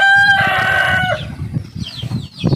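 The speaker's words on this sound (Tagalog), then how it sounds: "Yung mga tandang natin yan." Roosters on a flooded Philippine farm crow loudly and close in one long, strained call, with clucking and rustling from the flock continuing under and after it.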